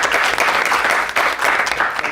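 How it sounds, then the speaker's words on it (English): A crowd claps steadily and enthusiastically, dense applause filling the whole moment without pause, at the close of a debate. "we have a round of applause for the organizers as well"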